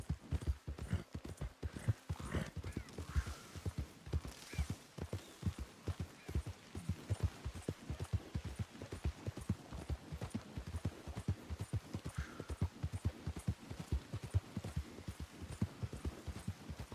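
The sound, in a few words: horse hooves clip-clopping in a video game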